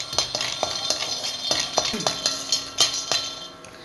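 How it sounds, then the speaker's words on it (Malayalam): Peanuts being stirred while dry-roasting in a pan, a spoon scraping and clinking against the metal in an irregular rhythm, with the nuts rattling and skittering under each stroke, close and clear. "ഇതൊന്ന് വറുത്തെടുക്കാം. കപ്പലണ്ടി നന്നായിട്ട് വേകുമ്പോഴേക്കും കപ്പലണ്ടി പൊട്ടാൻ തുടങ്ങും."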